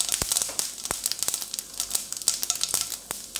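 Mustard seeds and urad dal frying in hot coconut oil for a yam and raw banana poriyal, giving a steady close sizzle broken by rapid sharp pops and crackles.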